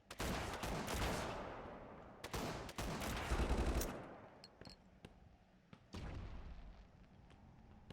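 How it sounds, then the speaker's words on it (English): Grenade blasts and bursts of gunfire ring out in the shooter game Project: Contingency, several sharp booms that decay quickly, with gaps between them and a final blast near the end. "Those grenades could use a bit more punch"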